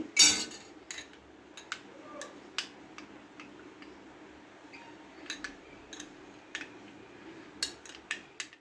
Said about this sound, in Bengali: এই দইটা আস্তে আস্তে দিয়ে দেবো দিয়ে ভালো করে নাড়াবো